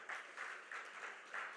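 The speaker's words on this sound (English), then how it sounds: "A big round of applause for our final panel of this first track of the morning." An audience applauds a conference panel in a short, faint patter of clapping that pulses slightly unevenly, with no voices over it.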